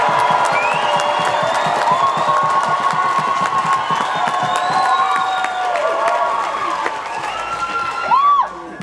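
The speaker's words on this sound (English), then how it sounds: "Good cheering." A festival audience at a folk festival circus show cheers and whoops loudly, a dense crowd roar with high shouts and children's voices, swelling near the end.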